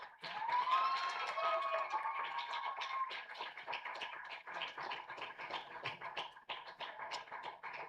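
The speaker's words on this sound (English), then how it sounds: "join me in giving all our parents and families a well-deserved round of applause" Graduation audience at a Year 13 school ceremony applauding parents and families: steady, dense clapping from a large crowd that holds for the full stretch, slightly fuller at the start, with a faint tonal ring and no clear talk.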